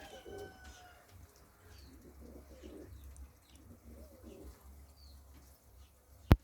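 Soft white pigeons cooing in a quiet outdoor setting, low murmuring calls with faint chirps from other birds and a sharp click at the end.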